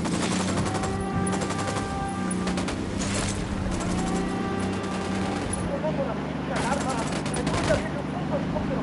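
Rapid bursts of automatic gunfire in a console shooter game against cartel reinforcements, dense crackling volleys nearly continuous throughout, with voices speaking over the shooting.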